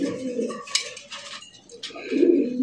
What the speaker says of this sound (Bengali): এটা হচ্ছে নর কবুতর, ডাক দেখেন।